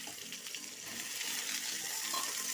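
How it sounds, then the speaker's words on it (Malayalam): Chopped shallots sizzle as they sauté in a pan for a squid thoran, giving a steady, close crackle and hiss that grows slightly louder partway through, with no voices. "കുറച്ച് ചെറിയ ഉള്ളി അതുകൂടെ അരിഞ്ഞു വെച്ചിട്ടുണ്ട്, അതുകൂടെ നമുക്ക് ഇതിലേക്ക് ഇട്ട് കൊടുക്കാം."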